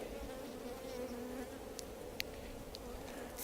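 Honey bees buzz at an open hive, a steady, soft, continuous drone close by, with a few faint clicks and taps over it.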